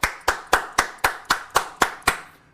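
Audience at a Duterte political rally clapping in unison: nine sharp, evenly spaced claps on a steady beat, close and clear, with no talk.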